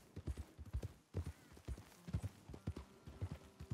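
Horse hooves clip-clop in Red Dead Redemption 2, a quiet steady trotting rhythm of paired hoof strikes on dirt, soft and continuous with no voices over it.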